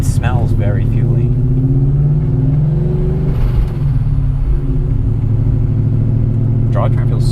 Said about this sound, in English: It's insanely noisy for an M5, isn't it?